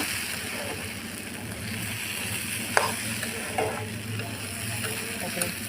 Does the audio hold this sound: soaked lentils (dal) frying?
yes